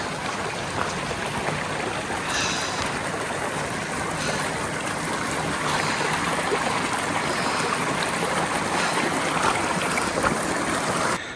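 Water of a creek along the Pacific Crest Trail in California, swollen by storms and washing out, flowing in a steady broadband rush for the whole stretch, close and fairly loud, with no voices.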